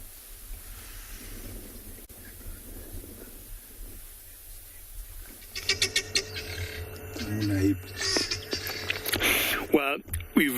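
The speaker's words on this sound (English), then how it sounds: "One or two oxpeckers that you can hear" Oxpeckers on a safari outing call in a series of sharp chirps and trills that grow busier partway through, heard over wind and rumbling ambience, with a voice talking in the earlier part.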